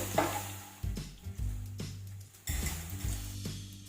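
Marinated cauliflower fries in hot oil while pieces are scooped out. A steady sizzle runs underneath, and several sharp metallic scrapes and clinks from a utensil against the pan sound up close.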